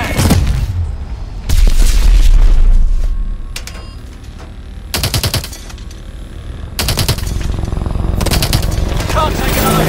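Heavy gunfire and booming explosions in the Call of Duty Advanced Warfare Bio Lab mission, with dense automatic bursts and loud blasts coming in waves, close and loud under intermittent shouted voices.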